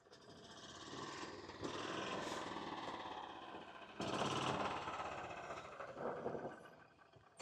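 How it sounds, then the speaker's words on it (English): A motorized blower whirs in uneven surges to clear old light bulbs from a cabin shed, its buzzing drone rising and falling at moderate, somewhat faint volume. "So we'll get the blower and blow them out."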